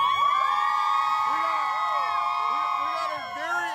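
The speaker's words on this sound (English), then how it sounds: "got a very excited crowd here" A dense, excited crowd cheers and whoops continuously at close range, with many high overlapping voices and shouts, some childlike, blended into a loud, steady roar.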